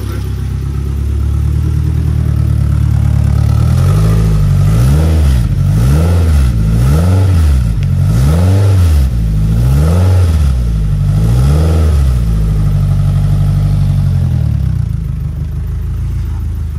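Freshly restored car engine running loud and close, revving repeatedly in a steady rise-and-fall pattern through the middle, then settling back toward a steady idle.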